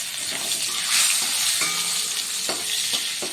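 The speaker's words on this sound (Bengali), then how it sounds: "এরপর ক্যাপসিকাম কুচি দিয়ে দিচ্ছি" Chopped capsicum frying in oil spiced with whole garam masala, asafoetida and Kashmiri chilli powder: a steady, close hiss of sizzling with scraping stirs and a few spoon knocks, no talking.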